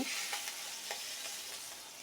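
Pomfret fish fries in a pan with a faint, steady sizzle, broken by a few soft clicks of stirring or turning, with no one speaking.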